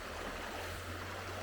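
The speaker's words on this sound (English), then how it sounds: "Then we have the river going through" A river in rural Bulgaria flowing past houses during the rainy season, a steady soft rushing wash with a low hum underneath, continuous and fairly distant, no voices.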